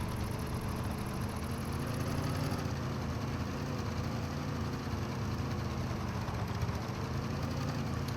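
A scooter engine in the video game Deadside runs steadily at a low rumble, a continuous idle-like drone that holds the same level throughout with no talk over it.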